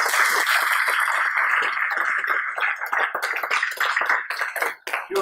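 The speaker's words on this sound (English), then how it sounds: "Maybe let's give them a big applause." Applause for students at a campus talk, a dense sustained wash of many hands clapping that stays loud throughout and thins slightly toward the end.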